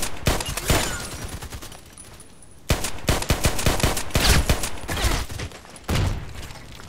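Rapid bursts of gunfire from a shooter game's weapons, with sharp automatic volleys separated by short pauses, loud and close.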